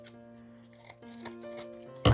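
Scissors snipping through fabric strips for a curtain-ring craft, a few quiet close cuts with a louder final snip, no talk.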